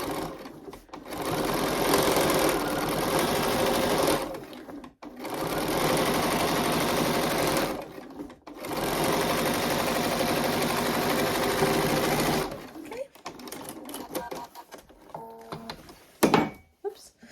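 A sewing machine runs top stitching on a cylinder pencil case, with three long steady whirring bursts separated by short pauses, close up, followed by quieter handling clicks and rustles.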